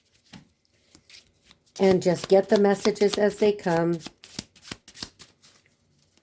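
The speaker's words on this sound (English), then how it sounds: "So I'm going to shuffle these" Oracle cards being shuffled in hand: a steady run of quick riffling, flapping card sounds lasting a couple of seconds, close and crisp, with someone speaking before and after.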